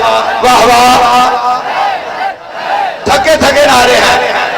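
Crowd at a Muharram majlis at a mosque and imambargah chanting religious slogans, loud bursts of many voices shouting in unison with a brief lull between two rounds.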